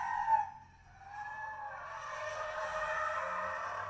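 A 2021 Ford Mustang Mach-E GT electric car drifting with its e-brake, giving a sustained high tire squeal that wavers in pitch and rises steadily in strength after a brief dip, heard at moderate distance.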